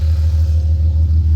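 A BMW E46 engine idling, a loud, steady low rumble with an even pulsing beat throughout and no voices.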